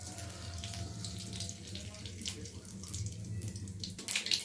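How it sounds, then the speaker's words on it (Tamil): Mustard seeds spluttering in hot oil in a kadai while tempering for Tamil mor kuzhambu, a steady broadband crackle and hiss throughout with a sharper burst of pops near the end. "கடுகு நல்லா பொறிஞ்சு வந்துடுச்சு."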